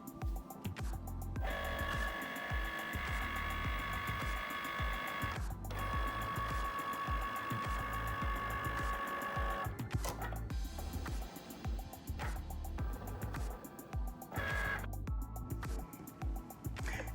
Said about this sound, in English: Now the Cricut has finished cutting our image